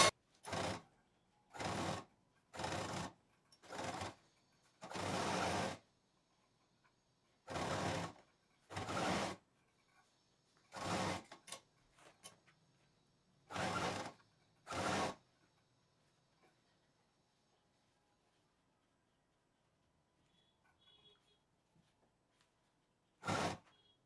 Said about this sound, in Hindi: अब इसको सिलना स्टार्ट करेंगे।